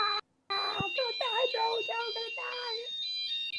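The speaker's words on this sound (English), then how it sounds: "Is there a fire alarm?" A fire alarm rings with a steady high electronic tone that cuts out briefly near the start and then carries on under excited talking and laughter from a few people close by.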